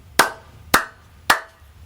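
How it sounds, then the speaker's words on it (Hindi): Three sharp hand claps spaced evenly about half a second apart, each a crisp, close, dry smack with a quick decay, alone with no talking. "ताली बजाना तो पहले ही सीखना पड़ता है।"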